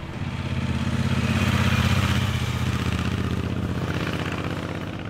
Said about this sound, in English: Thumb the starter and the big 1200 wakes up with a proper growl for the twin exhaust pipes